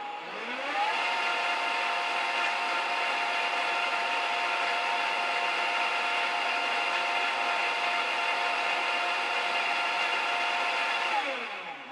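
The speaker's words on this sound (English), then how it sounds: "When the blend cycle rises to the peak, it will automatically increase the speed of the Vitamix." A Vitamix blender runs a blend cycle, its motor ramping up in pitch, holding a loud steady whirring roar for around ten seconds, then winding down at the end.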